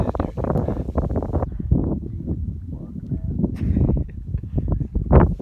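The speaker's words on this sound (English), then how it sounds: "Probably you guys can't hear us because it's so windy right now" Strong gusty wind buffeting an outdoor microphone on a road trip, a continuous low rumbling roar with bursts that nearly bury faint voices talking underneath.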